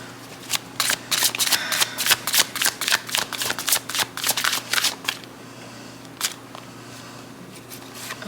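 Tarot cards shuffled close up. A fast burst of crisp riffling and flicking clicks runs for about five seconds, then gives way to a few scattered card taps over a faint steady hum.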